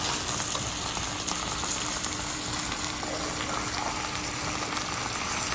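Beef burger patties for a three-meat, three-cheese burger fry on a hot surface, a dense, constant, close crackling sizzle that holds steady without pause and without talk.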